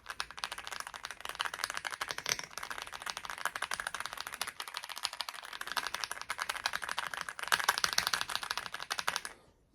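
Close, continuous rapid typing on an AULA F75 Pro wireless mechanical keyboard, dense clacking keystrokes filling nearly ten seconds with a brief lighter patch midway, ending abruptly.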